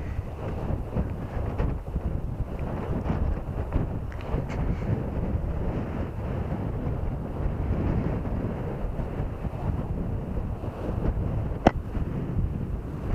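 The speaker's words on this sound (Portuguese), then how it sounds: "Está é bué de vento, man. Está um vento." Strong wind on a beach roars steadily into the microphone for the whole stretch, a dense low rumble with gusty buffeting and no voices.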